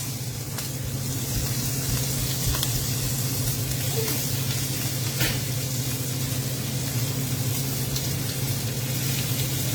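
Pork ribs searing in a hot pan on a stovetop, a steady broad sizzle holding at even loudness for the whole stretch with a low hum beneath and a few faint clicks.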